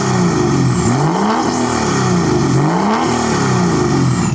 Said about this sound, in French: Le bruit du gros moteur diesel 3 litres.